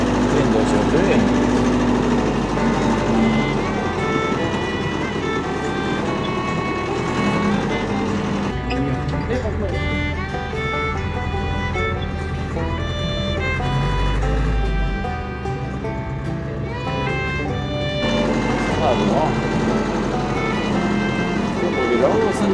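Car driving along a rural forest track at the start of a firewood-cutting season, with a steady low engine rumble and road noise throughout, accompanied by continuous people talking over it.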